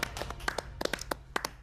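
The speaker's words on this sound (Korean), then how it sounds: "박수 한번 보내죠." Scattered handclaps from a small group in a Korean TV variety-show studio, about a dozen sharp, uneven claps over a second and a half, close and moderately loud with no talking.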